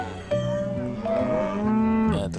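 A cow being loaded into a pen on a livestock truck lets out loud, drawn-out moos, close and alone with no talk.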